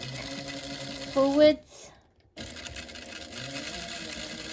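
A sewing machine stitches fabric for a handmade bag in a short whirring burst that stops abruptly, then quiet room tone, with a person talking over it.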